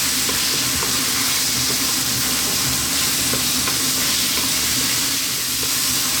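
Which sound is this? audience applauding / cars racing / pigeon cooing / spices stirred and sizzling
spices stirred and sizzling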